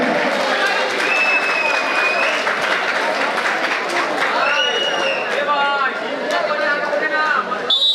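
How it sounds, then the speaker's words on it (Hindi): A crowd applauds at a village kabaddi tournament in Mandraud, 2024: dense, continuous clapping and outdoor chatter fill the air while an announcer talks loudly over it. "चलिए ताली बजाइए भैया।"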